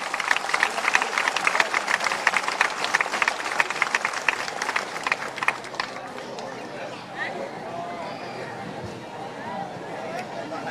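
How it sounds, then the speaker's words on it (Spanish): A crowd at an outdoor commemoration claps to welcome a young women's association, brisk rapid applause for about six seconds that then fades into murmuring voices and background chatter. "Así que las recibimos con un fuerte aplauso a la asociación AMU Joven."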